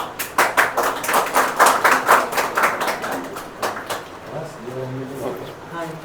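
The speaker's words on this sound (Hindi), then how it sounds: "तालियां तालियां।" A small group claps at a result celebration for first-year BA and LLB students, a run of distinct hand claps that thins out; a voice speaks toward the end.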